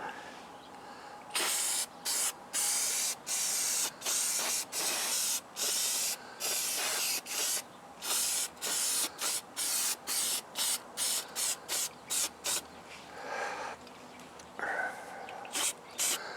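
Short bursts of aerosol filter oil spraying onto a K&N air filter from a Ural, about a dozen quick puffs in an irregular rhythm, close and fairly loud, with brief pauses between them.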